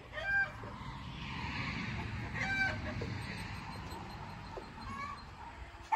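An animal imitates hens, giving a few short clucking calls over a farmyard background, with a louder squawk early on and another partway through.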